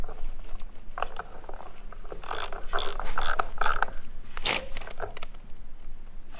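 A wrench tightens a nut with a burst of close, rapid ratcheting clicks, busiest in the middle of the clip, over a steady background hum.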